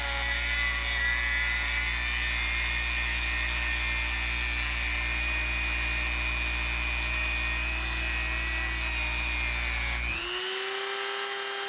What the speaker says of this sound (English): take my Dremel with a cutoff wheel. I'll trim them as close as I can get to the knob